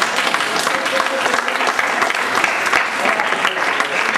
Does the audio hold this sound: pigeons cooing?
no